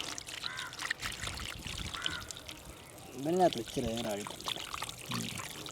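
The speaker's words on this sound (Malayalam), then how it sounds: "അടുത്ത ആൾക്ക് ഒഴിക്കും വെള്ളം ഒഴിക്കും വയറ്റിലേക്ക് ഒഴിക്കും" Water is poured over cleaned fish being rinsed for a fish fry, a soft, steady splashing and trickling under ongoing talk.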